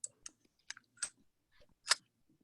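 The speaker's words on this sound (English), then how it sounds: "And you just peel off the tape." Tape is peeled off a freshly cured UV resin jewelry charm, producing a handful of small, sharp crackling clicks and ticks close up in an otherwise quiet room.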